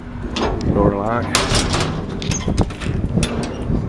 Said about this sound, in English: Door lock.